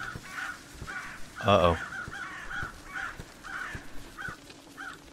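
Several startled crows caw in a row in a video game, a bright burst of harsh calls near the middle among repeated caws, with someone talking over them.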